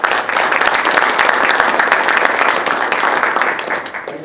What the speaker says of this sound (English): The applause might be a little premature